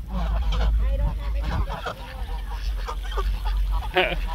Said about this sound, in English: Duck invasion.